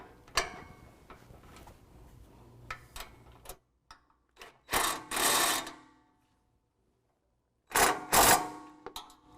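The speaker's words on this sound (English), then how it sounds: "we can go ahead and tighten this down with a 7/16 socket and wrench" A 7/16 socket and wrench tighten a nut and bolt on a Westin LED bull bar being fitted to a 2016 Toyota Tacoma, giving sharp metallic clicks and short ratcheting bursts separated by pauses.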